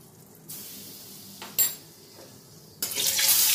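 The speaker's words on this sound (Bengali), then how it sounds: "এবার আমি পনির ও আলু এক এক করে ভেজে নেব।" Paneer and potato pieces frying in hot white oil, a hissing sizzle that rises sharply as pieces are added, growing loud and bright at close range.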